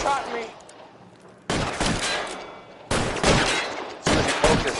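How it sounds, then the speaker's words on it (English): Gunfire in L.A. Noire rings out in three sudden loud bursts about a second apart, each with a sharp attack that decays into a rumbling tail. "One of them just shot me."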